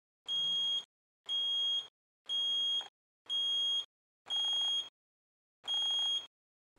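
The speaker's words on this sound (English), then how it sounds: "The frequency of beeping and the LEDs illuminated will increase as you move towards the" A Bullseye electronic leak detector gives six sharp beeps at a steady, even pace, each a shrill tone about half a second long with silence between.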